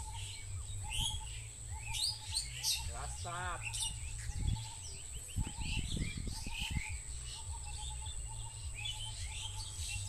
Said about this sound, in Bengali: কিরম পাখির কলকাকলি